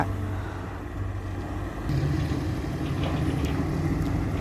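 A Cat 320GC excavator's four-cylinder 145-horsepower Cat diesel engine idling nearby, a steady low rumble that grows a little louder partway through.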